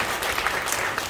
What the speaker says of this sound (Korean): 인사하실 때 큰 박수 내주시기 바랍니다.